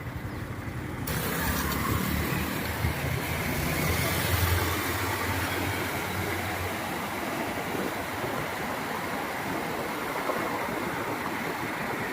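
A car drives along Kuang Heng Road in Si Sa Ket, Thailand, its engine a steady low hum under broadband road and wind rumble that holds constant throughout, with no talk.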